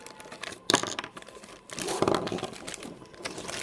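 Soft crinkling and rustling of thin plastic in bursts, close by, with quiet pauses between handling sounds.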